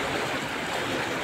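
Water from a canal flowing out of a fox burrow, a steady rushing, gurgling stream, continuous and fairly loud without pause.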